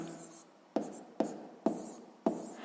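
Pen writing numbers on paper during a sixth-grade maths exercise, a quiet scratchy stroke sound with four sharp taps spaced about half a second apart, close and faint.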